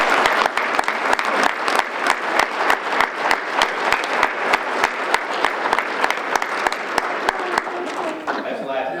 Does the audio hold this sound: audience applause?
yes